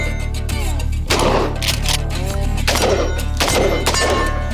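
.308 rifle shots crack out at a close-range 20-yard shooting session, three or four sharp reports spaced about a second apart, loud and close over a constant low background hum.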